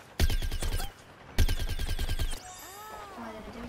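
Two rapid bursts of rhythmic cartoonish shots from a Plants vs Zombies Garden Warfare weapon, each lasting under a second, followed by whistling, warbling game effects.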